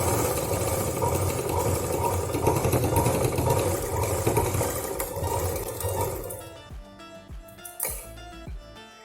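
A home sewing machine runs steadily while stitching an apron, a continuous close motorised whir that stops near the end, followed by a few light clicks and handling sounds.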